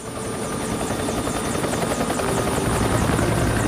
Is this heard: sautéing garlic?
no